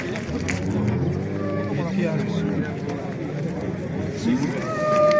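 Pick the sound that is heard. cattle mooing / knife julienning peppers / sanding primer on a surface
cattle mooing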